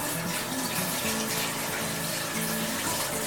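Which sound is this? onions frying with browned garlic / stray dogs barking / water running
water running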